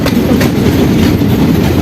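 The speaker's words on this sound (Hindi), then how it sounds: "ट्रेन हमारी अराइवल हो रही है मोदी नगर रेलवे स्टेशन" Delhi Haridwar Express train pulling into Modinagar railway station in Uttar Pradesh, heard up close as a loud, continuous rumble with rhythmic clickety-clack of wheels over the rail joints.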